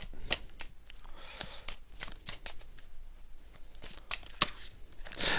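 Stiff playing cards are shuffled and snapped close by, a run of crisp slaps and riffling flicks at an uneven rhythm, with a quiet room behind.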